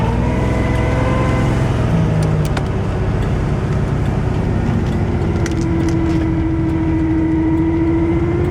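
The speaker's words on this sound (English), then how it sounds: "Oh, the transmission shifts." A 1995 Oldsmobile Cutlass Supreme convertible, recently dragged home, running loud and close with a steady engine drone whose pitch drops and then settles into a new tone as the transmission shifts.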